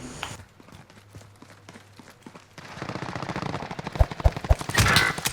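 Gunfire in the Warzone battle royale game, coming from behind: a rising spread of rapid shots grows louder toward the end, with several sharp, close cracks near the finish and no speech.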